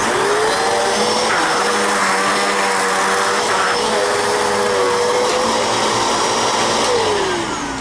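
A Simplicity Symmetry S20 or Riccar Vibrance R20 upright vacuum cleaner runs steadily at full power, a loud continuous motor whine with a high airy rush that holds without a break and eases off slightly near the end.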